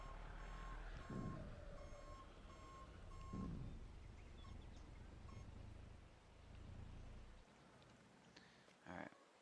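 Truck reversing beeps in Farming Simulator 22: a faint, steady series of evenly spaced electronic beeps over a constant low engine rumble and a hiss like rain, with a couple of brief whooshing passes.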